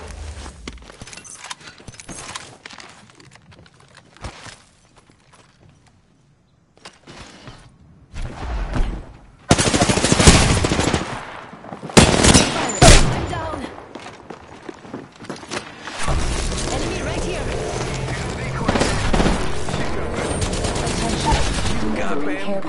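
Gunfire in the battle royale game Apex Legends, bursts of shots and clattering impacts arriving after a quiet stretch, loud and close, with game voices mixed in.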